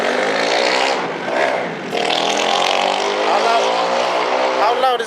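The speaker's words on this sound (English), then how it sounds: "how loud is that motorbike?" A loud motorbike roars past close by, its engine note rising and falling in a sustained buzzing snarl, with a voice talking in the background.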